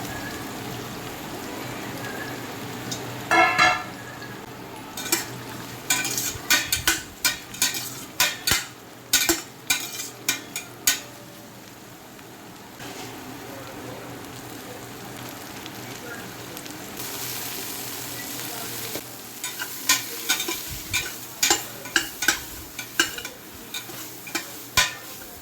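Sizzling and spattering from masala okra frying on a hot griddle, with bursts of crackling and occasional stirring scrapes, no talking.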